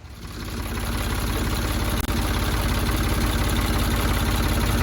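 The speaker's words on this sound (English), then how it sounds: "pull the tractor over, get one of the forks underneath here" A tractor engine runs steadily up close, being pulled into position to lift a fallen tree with its forks after tornado damage, a loud continuous low throb with a brief dip partway through.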